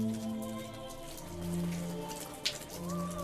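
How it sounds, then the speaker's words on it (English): Rain patters steadily in the video game Alice: The Darker Side, a soft wash of drops under sustained tonal music, with one brief sharper tap. "you better get in out of the rain,"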